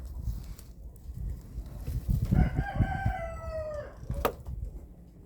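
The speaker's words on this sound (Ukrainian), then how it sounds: "Мала, вредна курочка" A small bantam hen lets out a drawn-out, rising-and-falling vocal call in the middle of a low, shuffling background, followed by a short sharp knock.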